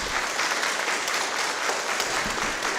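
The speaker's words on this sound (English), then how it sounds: "Let's give these people a round of applause." An audience claps steadily for a few seconds, a dense and even wash of applause from a sizable crowd, with no voices standing out.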